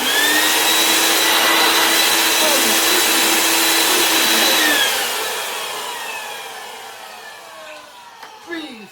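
A 1990 Bosch Alpha 32 Premium vacuum cleaner roars loud and steady with a high motor whine, then winds down as it switches off, ending in a faint clunk.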